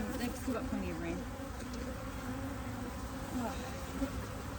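Honey bees hum in a steady, dense drone around a top bar beehive, the buzz close and continuous, with individual insects briefly swelling louder as they pass near.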